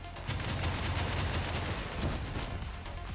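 Rockets fired from a vehicle in Crossout, a dense, loud barrage of rapid launches and blasts that roars continuously for a few seconds with no talk.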